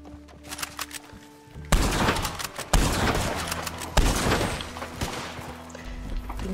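Heavy Elephant Rifle shots in the western game Red Dead Online, several loud booming reports spaced a second or so apart with ringing tails, no talking.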